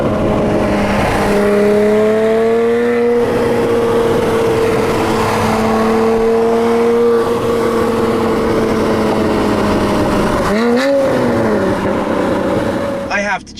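A Porsche 981 Cayman GT4 fitted with an iPE exhaust revs loudly toward redline, its engine note climbing in steady rising harmonics, then dropping sharply before a second surge near the end, with a voice speaking over parts of it.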